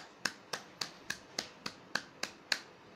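Hands clap nine times in an even, quick rhythm, about three claps a second, during a father's clapping game at home. Each clap is crisp, sharp and close, with short quiet gaps and no talking.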